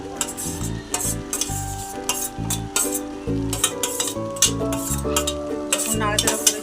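Carrot halwa with grated coconut stirred briskly in a pan, a close, steady run of spoon scrapes and clinks over a soft sizzle, with no talking.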